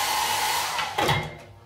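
A hair dryer blows in a hotel bathroom with a steady, close, loud whooshing drone that surges briefly and then begins to wind down at the end.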